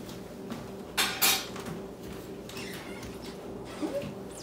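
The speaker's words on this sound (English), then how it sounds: "Now we'll get a little lid here." A small lid is set onto a pot of orange, Big Mac-style burger sauce, giving two quick metallic clinks close by over a low kitchen hum, followed by a fainter rattle.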